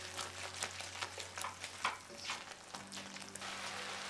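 Ground spices for rajma masala, including red chili and coriander powder, sizzle and fry in a pan while being stirred, with faint scraping taps over a soft, steady hiss; no one speaks.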